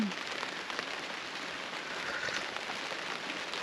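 Heavy rain pours onto a car during car camping, a dense, steady patter heard from inside, with the hiss of countless drops continuing evenly throughout.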